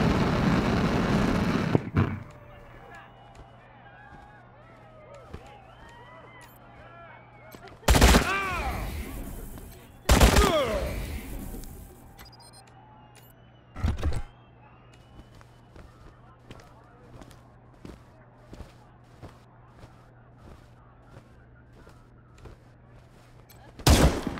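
Gunfire in the video game Wasteland 3 comes as several sharp, loud bursts spread far apart over a quiet, steady low hum, with a final burst at the very end.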